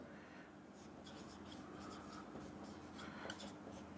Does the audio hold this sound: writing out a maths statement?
yes